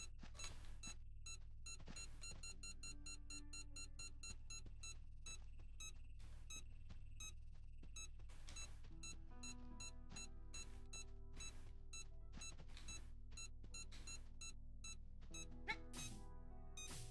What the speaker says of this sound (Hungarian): Még lent jobban csipogat.